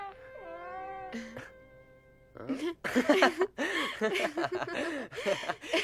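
A cat in an animated film meows in drawn-out, wavering cries at the start, then people talk over faint background sounds.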